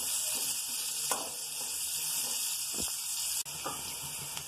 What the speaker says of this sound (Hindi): और हम इसको अच्छे से फ्राई कर लेंगे।